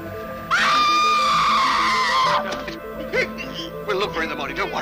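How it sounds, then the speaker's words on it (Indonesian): A person in a film screams at night, giving one long, loud, high-pitched scream lasting about two seconds. Fainter cries and voices follow. "Dan tak lama kemudian terdengarlah suara teriakan dari Swan."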